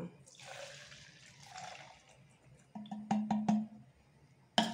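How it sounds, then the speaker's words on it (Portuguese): 92 alcohol, or ethanol, is poured into a container, a hissing liquid pour that fades out, followed by a few sharp knocks and clinks, with a voice talking during the pour. "Colocar 350 ml de álcool 92 ou etanol"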